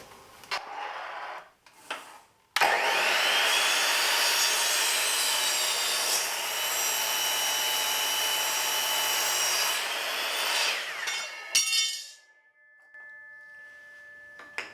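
A power saw cuts through a long wooden board, a loud sustained whine and rasp of roughly eight seconds, bracketed by short clunks and the motor winding down.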